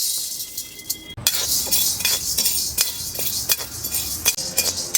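Chana dal roasts in an iron kadai while a spoon keeps stirring it. The scraping and clinking turn busy after a sudden start, with irregular metallic knocks close by.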